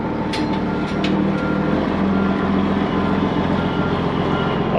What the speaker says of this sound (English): Backup alarm works.